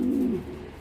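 A grizzle pigeon gives a single low, throaty coo up close, a short rolling call that fades quickly into quiet.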